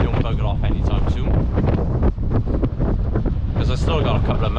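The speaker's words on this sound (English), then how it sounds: "It's quite windy down here, so if you can't hear me too good, I do apologise" Strong wind buffets the microphone on the Bristol Channel shore at low water, a loud, steady roar broken by gusty bursts, with someone talking over it throughout.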